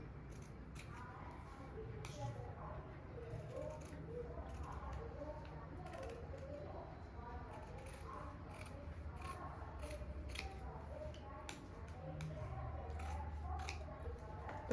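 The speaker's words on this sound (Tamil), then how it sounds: "இப்போ கட் பண்ணி எடுத்தாச்சு." Scissors cut through blouse fabric in quick, repeated crisp snips, close and fairly quiet, with soft talking underneath.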